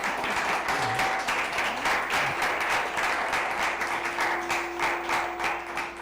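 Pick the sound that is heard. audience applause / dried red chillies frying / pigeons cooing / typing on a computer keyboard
audience applause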